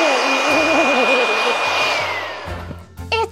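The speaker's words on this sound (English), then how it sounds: "It's a blower." A blower in a workshop runs steadily and loudly up close, with a whining tone that shifts pitch slightly before winding down near the end.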